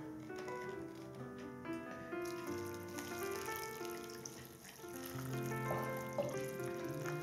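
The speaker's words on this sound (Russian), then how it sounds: "сейчас к нему мы добавляем обязательно кипяток" Boiling water is poured into a hot pan of fried rice, a faint, quiet stream of running, splashing liquid that continues through the whole stretch.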